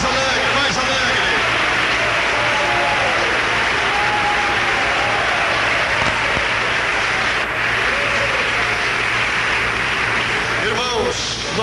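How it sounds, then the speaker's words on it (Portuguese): Church congregation applauding for Christ during a lively service, a steady wash of many hands clapping that runs continuously and loudly throughout, with voices faintly mixed underneath. "Forte aplausos para Cristo."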